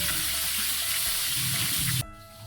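Tilapia frying in hot oil gives a steady, loud crackling sizzle with scattered pops for about two seconds, then drops abruptly to a quieter hum.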